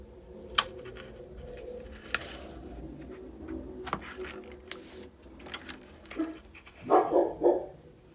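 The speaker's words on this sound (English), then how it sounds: "And if you hear my dogs, they are barking" Dogs bark at snow plows in scattered single yaps at a distance, then a closer, louder flurry of barks near the end, over a quiet indoor background.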